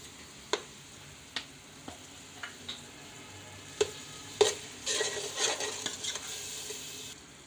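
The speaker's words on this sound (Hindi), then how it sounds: "और इसको हम अच्छी तरह भून लेंगे।" Green chili paste, added for a fish biryani, fries in a pan while a spoon stirs it: sharp scraping knocks at irregular intervals, then a soft sizzle swelling up later, close and fairly quiet.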